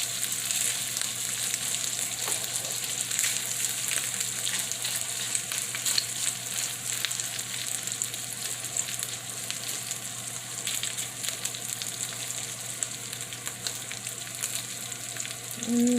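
Corned beef hash frying in a pan after being flipped, a steady, close sizzle that runs unbroken and alone throughout.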